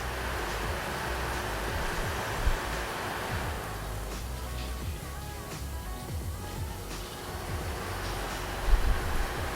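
A Trustech oscillating air cooler fan running in its sleep mode gives a steady, soft whooshing airflow hum that stays even throughout, with a faint low rumble and a couple of small knocks.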